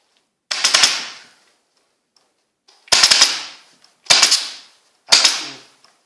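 An upholstery staple gun fires four sharp, loud snaps while a chair is being re-covered, with one shot, a pause, then three in fairly quick succession, each followed by a short metallic ring.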